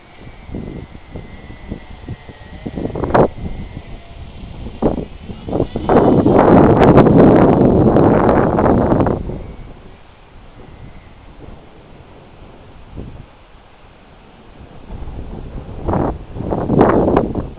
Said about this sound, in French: Ah, c'est fou le vent, hein.